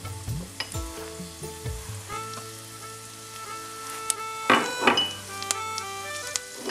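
Cumin and other ground spices hit hot oil in a pan for a samosa filling, giving a steady close sizzle with scraping stirring strokes and a few sharp utensil clinks against the pan.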